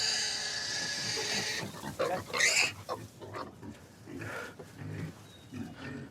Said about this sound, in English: that's a very healthy pig making a fairly standard pig noise